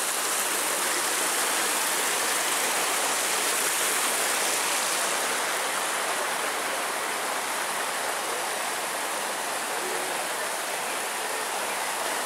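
A stream in Barranca de Chapultepec park in Cuernavaca flows steadily, a continuous close rush of water that holds even and loud throughout, with no voices.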